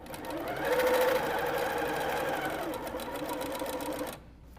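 A sewing machine stitches quilt binding in one continuous run of rapid, even needle clatter lasting about four seconds before stopping, close and fairly quiet.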